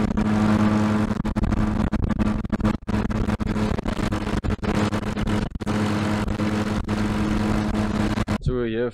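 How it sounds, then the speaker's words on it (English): A Massey Ferguson 240 tractor drives a hammer mill grinding sorghum on a South African farm, giving a loud, steady mechanical drone with a strong low hum that runs almost unbroken, with brief dips and a sudden cutoff near the end. "So we're here with the Massey Ferguson 240 and our hammer mill"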